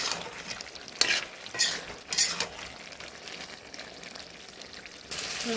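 A vegetable curry with a little gravy is stirred in a pan over the heat, giving a steady sizzle broken by several scraping spoon strokes, close and moderately loud, with no talking.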